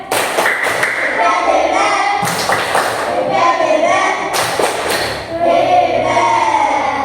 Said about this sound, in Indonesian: Kalau sudah benar kita beri tepuk hebat.